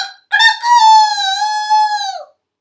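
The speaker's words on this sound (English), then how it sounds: "as the sun came up, he heard a loud" Rooster giving one loud, clear cock-a-doodle-doo close up, a rising call that holds steady and then trails off, heard alone against silence.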